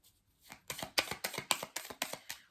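Tarot cards are shuffled in a quick run of rhythmic riffling slaps, about a dozen soft bursts close by after a brief silence, with no voices.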